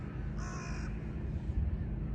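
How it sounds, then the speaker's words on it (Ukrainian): A crow calls once with a harsh, rasping caw outdoors on Obolonsky island, fairly close and brief, over steady low background rumble and wind. "О, ворона."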